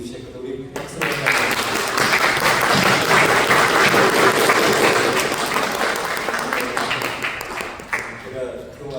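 A church congregation at a Sunday worship service claps to welcome a visiting missionary. The applause swells in after a brief pause, holds as a broad, busy crowd sound for several seconds, then tapers off.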